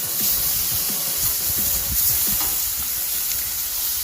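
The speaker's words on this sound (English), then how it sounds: "Listen to that bacon sizzle." Bacon sizzles and crackles steadily in a hot pan, a dense hiss with scattered pops throughout, close and continuous.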